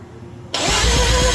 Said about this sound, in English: this would definitely be ready to crank over